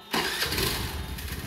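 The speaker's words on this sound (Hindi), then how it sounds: "तुमने अकेले गाड़ी स्टार्ट करके जा रहे हो" A car engine cranks and catches after a brief quiet moment, then runs at a steady, close, fairly loud idle for the rest of the stretch.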